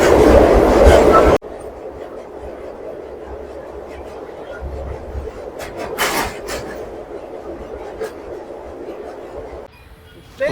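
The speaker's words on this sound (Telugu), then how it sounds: "ఇప్పుడే ట్రైన్ తాడేపల్లిగూడెం అయితే వచ్చింది" Passenger train pulling into Tadepalligudem station on a trip through Andhra Pradesh, a loud rumble for the first second then steady carriage noise with faint clicks and brief louder bursts, heard from inside the coach.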